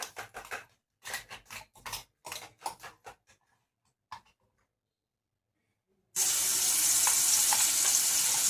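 Masala dropped into hot oil for a Marathi-style jackfruit bhaji, starting as a sudden loud, steady sizzle after a few seconds of silence and occasional clinks, then frying on evenly and close by.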